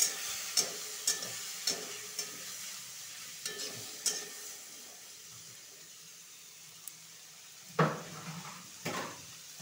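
A spatula stirs gourd-shoot tips, potatoes and tomatoes with salt and turmeric in a pan for a foli fish curry, giving soft intermittent scrapes and clacks over a faint sizzle, with a louder cluster of knocks near the end.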